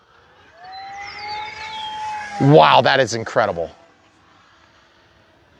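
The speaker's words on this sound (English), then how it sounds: "Folks, I love the way this plane flies." An FMS P-51 Voodoo V2 RC model plane of 1.1 m span, flying on a 4S or 6S battery, gives a rising, then steady, whining motor pitch as it passes, followed by someone speaking loudly over it.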